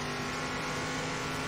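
Stock cars racing fast around an oval circuit in Circuit Superstars, a steady unbroken engine drone at high speed, dense and continuous with no pauses.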